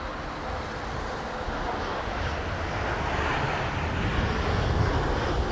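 A departing airliner at London Heathrow Airport gives off a steady, loud broadband roar that swells slightly toward the end, blended with gusty wind buffeting the microphone. No one speaks.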